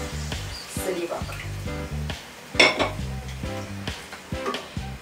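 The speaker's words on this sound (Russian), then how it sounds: "И мы эти сливки, собственно, кипятим." Cream simmering with bacon in a pan for a spaghetti sauce, heard as a soft sizzle beneath repeated close clinks and scrapes of utensils against the cookware, with a voice speaking in between.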